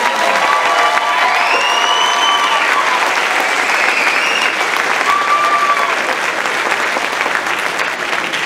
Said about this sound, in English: can we give one more round of applause to everybody?